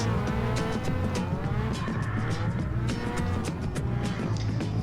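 National Hot Rods race cars roll around an oval at a British Championship race at Arena Essex, a steady, loud, continuous engine roar from the pack with no talk over it.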